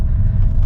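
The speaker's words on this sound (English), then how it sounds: "Cold start diesel sound." A 2011 Volkswagen Jetta diesel engine idles right after a cold start, a loud, close, low rumbling drone that holds steady throughout the short stretch.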